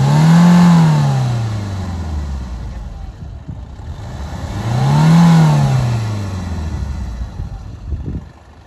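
A Maruti Suzuki Dzire, seven years old, revs twice, the engine swelling loud and close then falling back to idle between the bursts, with no voices.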